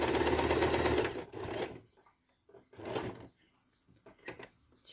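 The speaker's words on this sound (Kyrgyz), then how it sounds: "Азыр чекесин тегиздеп тигип" A sewing machine stitches along the edge of a patchwork quilt in short bursts, a close, fast whirring rattle that stops and restarts several times with quiet pauses between runs.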